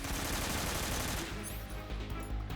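AK rifle fire from the Metal Gear Solid 3 video game rattles in a dense, loud automatic burst that fills the first second and a half, then trails into scattered shots and echoes.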